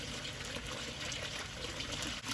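Water sloshes and trickles steadily as a Nile monitor lizard splashes around in its water bowl, a soft, continuous close wash with no voices.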